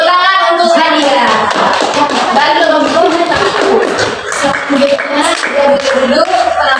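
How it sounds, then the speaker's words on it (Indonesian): Schoolchildren in a classroom clap together for a classmate in a lively, close burst of applause, with children's voices chattering over the clapping. "tepuk tangan untuk Nadia"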